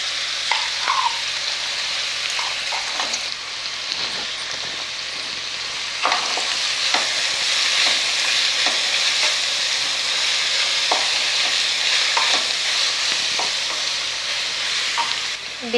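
Vegetables and ground masala sizzle steadily in a pan for sabbakki (nylon sago) vegetable upma, with a constant frying hiss broken by scattered scraping stirs and light clinks, loud and close with no talk.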